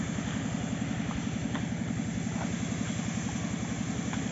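A walking tractor's engine runs a pump spraying foliar compost fertilizer, a close, steady, throbbing drone with a fast even pulse that continues unbroken throughout.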